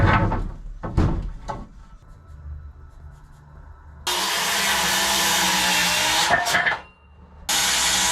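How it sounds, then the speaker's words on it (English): A power saw cuts a wooden header piece during a wood shop remodel: short bursts early on, then two long, loud, steady whines, broken by a brief drop in between. "My pops is cutting the header piece right here, this top piece for this one"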